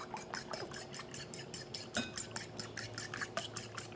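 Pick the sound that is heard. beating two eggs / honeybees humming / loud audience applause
beating two eggs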